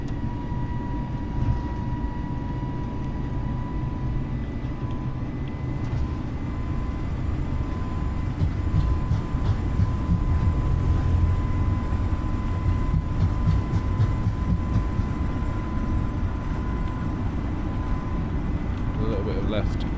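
Airliner engines spooling up during a takeoff roll in a flight simulator, a loud, steady low roar with a constant whine, continuous and close, with faint clicks near the middle.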